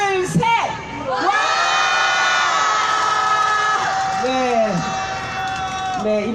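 A crowd at Seoul's Wednesday Demonstration rally erupts in loud, sustained cheering and shouting, high excited voices whooping together for several seconds, close and energetic.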